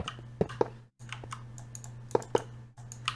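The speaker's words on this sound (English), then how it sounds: "I'm also hoping that with this new mic that my clicking isn't going to be too loud" Keyboard keys and mouse buttons clicking up close on a newly installed microphone, a few sharp distinct clicks in pairs over a steady low electrical hum, with brief silent gaps.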